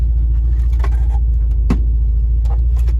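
Volkswagen Vanagon van driving along, a steady low engine and road rumble throughout with a few faint rattles and knocks from the cabin on top.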